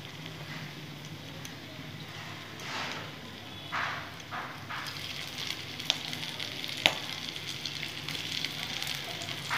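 Fish pakoda fritters fry in hot oil with a steady, low sizzle and crackle that swells in places, with a few sharper pops and scraping stirs near the end.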